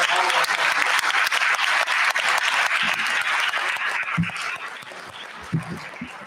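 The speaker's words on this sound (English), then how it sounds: "If we can give a round of applause." Audience applause after a diversity, equity and inclusion speaker series talk, steady full clapping that thins out toward the end, with a few scattered claps and faint voices emerging as it fades.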